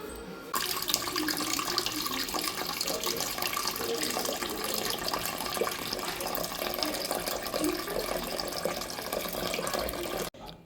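Tap water pours steadily into a vessel in a home kitchen where sweet potatoes are being washed, a continuous close splashing flow lasting about ten seconds before cutting off abruptly.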